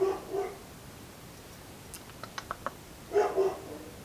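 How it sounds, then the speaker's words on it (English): A big dog barks in two short bursts at the start and end, moderately close, with faint clicks and taps between them. "That is a really proper bark,"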